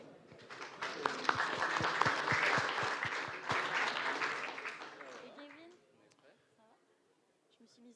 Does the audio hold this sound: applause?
yes